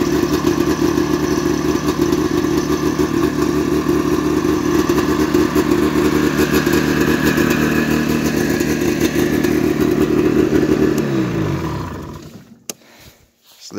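A 1987 Yamaha Exciter snowmobile engine runs loud and close with a steady buzzing two-stroke drone, then winds down and shuts off near the end, leaving brief quiet clicks.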